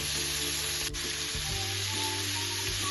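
Washed prawns sizzle in softened onion masala with a dense, steady frying hiss throughout, over a low background hum.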